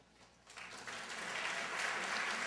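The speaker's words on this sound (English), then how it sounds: "I'll take that to be applause for the Pan American Center." Applause from a lecture-hall audience at the PEN American Center's Arthur Miller Freedom to Write Lecture: soft, distant clapping that starts thin and swells into a steady patter, fairly faint throughout.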